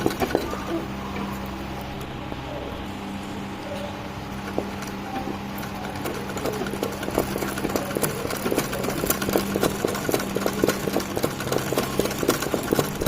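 A domestic sewing machine runs steadily while stitching a scalloped embroidery flower petal, with a rapid mechanical ticking rhythm that grows louder and busier toward the end, heard alone at close range.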